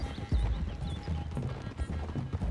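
Horses gallop in Red Dead Redemption 2, with rapid hoofbeats pounding continuously and fairly close by, accompanied by brief snorts and faint background game sounds.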